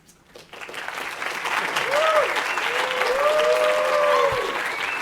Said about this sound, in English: It's always great to get applause just for introducing someone